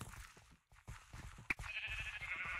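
Sheep bleating inside the Minecraft video game during a multiplayer minigame, a short sharp bleat in the middle followed by a sustained bright tone, with brief game noises around it.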